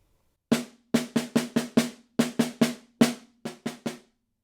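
Close, solo snare drum plays an etude measure with right-hand-lead sticking: about fifteen sharp, even strokes in quick groups, the last few dropping noticeably softer.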